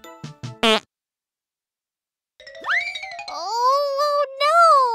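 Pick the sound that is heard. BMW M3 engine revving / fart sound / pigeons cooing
fart sound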